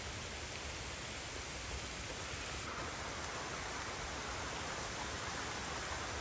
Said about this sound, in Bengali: আবার তো ভালো বৃষ্টি হইতেছে এখন আবার